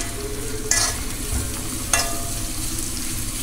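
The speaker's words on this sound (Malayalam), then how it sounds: "നമുക്ക് അരിഞ്ഞു വെച്ചിരിക്കുന്ന സവാള അതിലേക്ക് ചേർക്കാം." Sliced onion sizzling in hot oil in a pan with curry leaves, a steady close frying hiss broken by two quick scraping stirs, with no voices.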